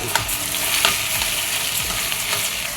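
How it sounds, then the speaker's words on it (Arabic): Washed Egyptian rice being stir-fried in a pan with curry, turmeric and salt, giving a close, steady sizzle with soft scraping stirs and small clicks throughout, with no talking. "هقلب بقى في الرز لغايه ما يشوح معايا"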